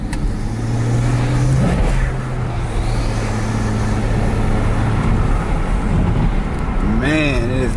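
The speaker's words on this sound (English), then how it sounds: "You can hear the turbo spooling." A BMW 335i E92 with the twin-turbo N54 engine accelerating from inside the cabin, engine note rising under load with turbo whine building, people talking and exclaiming over it.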